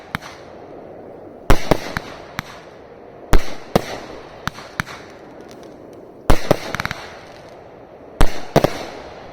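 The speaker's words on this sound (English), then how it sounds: "Well, that was certainly a different firework from the shape to the performance." A B 2 Bomber 500g firework cake going off, with loud sharp bursts arriving in clusters separated by short gaps, each blast followed by crackling decay against a steady outdoor background.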